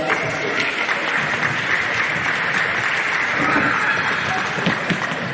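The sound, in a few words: applause for sponsors at futsal league final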